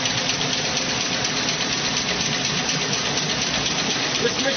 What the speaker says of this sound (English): This machine is running on its own right now.